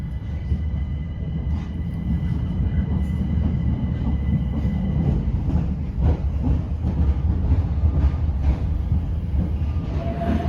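Southeastern Class 376 electric train running out of Charing Cross toward Waterloo East, a steady loud interior rumble of wheels on rails with faint rhythmic clacks and occasional squeals throughout.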